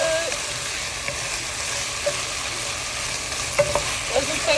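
Beef cooking over high heat for lo mein gives a steady broadband sizzle with light stirring scrapes and a few soft clinks, close and continuous, with no talking.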